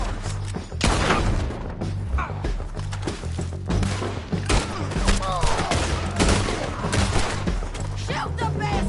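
Rapid gunfire in Red Dead Redemption 2, loud repeated shots and bursts crackling through nine seconds while voices shout over the battle.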